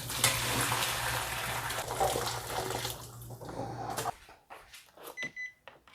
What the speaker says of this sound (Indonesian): Ini wis direbus ya, airnya mau tak buang